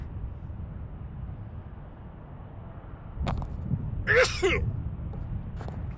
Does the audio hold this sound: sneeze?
yes